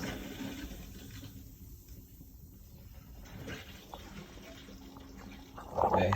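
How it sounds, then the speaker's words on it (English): Antifreeze running through the hot and cold water lines of a 2013 Coachmen Encounter RV, a steady liquid rush and trickle close by, with a person talking over it. "So we've got antifreeze flowing there."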